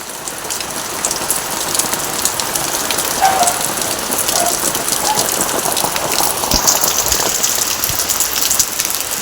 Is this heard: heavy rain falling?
yes